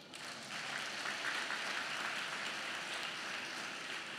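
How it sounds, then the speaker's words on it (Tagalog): Applause from a church congregation during a sermon, a dense, even wash of clapping that swells after a brief start and holds steady, fairly faint and distant. "Baka gusto niyong pumalakpak."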